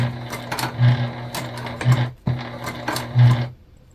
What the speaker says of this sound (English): we're just back stitching very well